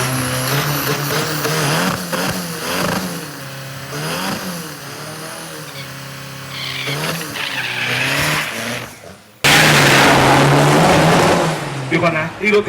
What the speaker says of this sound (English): And they're off. The first car I have seen on the strip tonight.